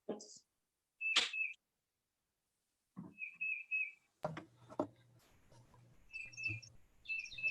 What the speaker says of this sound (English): I like the bird chirping too.